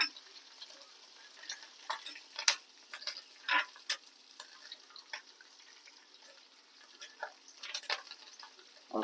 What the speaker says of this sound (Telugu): అది ఈ పోపు వేసుకోవడమే మనం.